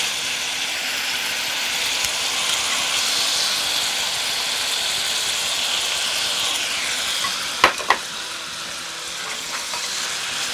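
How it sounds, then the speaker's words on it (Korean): Meat and shrimp simmering in soy-based sauce in a pan, a steady loud sizzle and bubbling hiss with two sharp utensil taps near the end, no talk. "고기하고 새우 넣고 양념을 살짝 이렇게 졸여준다 생각하시면 돼요"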